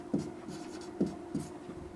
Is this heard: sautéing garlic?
no